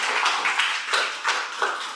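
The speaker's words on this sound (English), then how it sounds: "Can we have a round of applause for ourselves for going through this session?" A small group at a pre-charter club meeting claps for itself, a short burst of scattered, fairly close applause with individual hand claps standing out, and no talking over it.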